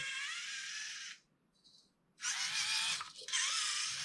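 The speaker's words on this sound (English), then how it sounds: "Bit of gearbox whine, but whatever." High-pitched gearbox whine from an HPI Venture18 U4 RC car, loud and steady, cutting out for about a second before resuming at the same strength with a brief dip near the end.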